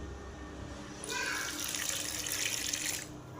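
Running water streams steadily for about two seconds, a close splashing pour into wheat chapati dough over quiet background noise, with no talking.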